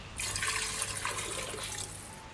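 Water gushes steadily into a cooking pot for Filipino oxtail soup, a close, continuous splashing pour that tapers off near the end, with no talking.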